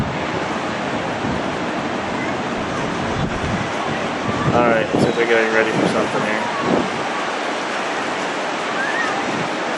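Ocean surf breaking on a beach at Mazatlan, Mexico, a continuous loud roar of waves with wind buffeting the microphone, while someone speaks briefly midway.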